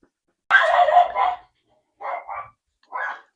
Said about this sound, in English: that's my dog going crazy again